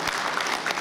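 A crowd at a cycling association's anniversary gala breaks into dense, continuous applause, close and loud for a brief moment.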